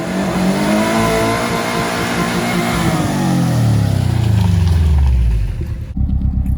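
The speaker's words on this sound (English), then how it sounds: "There's a car coming." A car approaches and roars past close by, its engine pitch sliding steadily downward as it passes before cutting off sharply.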